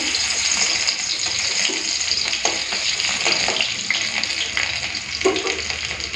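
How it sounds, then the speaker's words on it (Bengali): Urad dal sizzling in hot oil with crushed garlic, a loud, steady frying crackle with scraping stirs and occasional pops, close and continuous with no voices. "তেলটা গরম হয়ে গেছে ডালটা সাঁতলাবো তার জন্য খেঁতো করে রসুন দিয়ে দিয়েছি প্রথমে"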